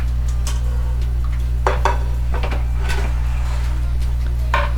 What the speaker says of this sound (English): I washed it and chopped it up like I'm doing right now